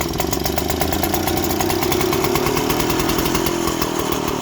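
A Qualcast 16 hand-cranked mower from the 1950s runs steadily, its small engine chattering in an even, close, continuous rhythm with no talk.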